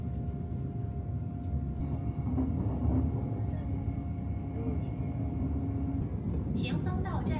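A classic KCR train rolls from Shenzhen toward Guangzhou through the Yuexiu district, a low steady rumble and hum of the carriage with faint rattles, and a brief higher squeal near the end.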